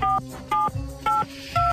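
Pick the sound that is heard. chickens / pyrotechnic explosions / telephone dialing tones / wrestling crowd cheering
telephone dialing tones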